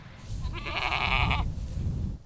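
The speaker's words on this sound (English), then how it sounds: "the couple feeds cows and their goat Ferguson" A goat on a Manitoba cattle farm gives one loud, close, wavering bleat lasting about a second, with rustling noise around it.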